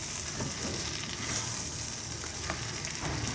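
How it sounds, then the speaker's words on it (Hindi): Half a kilogram of chana dal stirred and fried in masala in a pan, a steady close sizzle with soft scraping stir strokes throughout, no voices. "अब इसको अच्छी तरह इसको मसाले में इसको मिक्स करेंगे"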